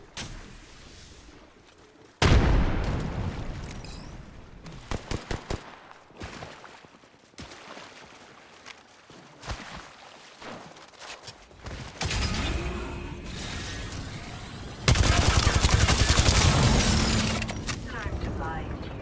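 Apex Legends battle sounds: a frag grenade is thrown and bursts amid repeated gunfire, with sharp loud impacts, clattering shots and broad booming blasts near the middle and end. Voices speak intermittently throughout.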